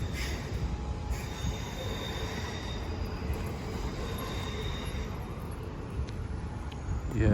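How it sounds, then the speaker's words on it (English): A Southwestern Railway train pulls out of a station near Portsmouth Harbour, its wheels giving off a sustained high metallic squeal over a steady loud rumble of rolling stock, with a faint voice underneath. "Train is just pulling out."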